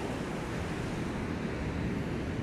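Ocean waves rolling onto a beach during a Christmas walk along the shore, a steady loud wash of surf mixed with wind buffeting the microphone, no talking.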